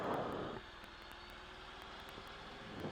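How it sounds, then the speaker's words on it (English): A steady propeller-engine drone hums throughout, louder at the start and end as an aircraft passes nearby at the Meadow Lake airfield runway, with no voices. "So we'll wait for this airplane to go past us."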